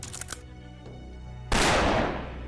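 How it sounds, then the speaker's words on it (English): A single loud gunshot crack in the game Fate Grand Order, an assassination shot at the Tsar, bursting in sharply after quieter background music and ringing out for about a second before easing. "We heard the gunshot."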